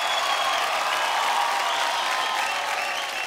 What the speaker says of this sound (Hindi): एक बार जोरदार तालियां हो जाए दिव्यांक और विवेक के लिए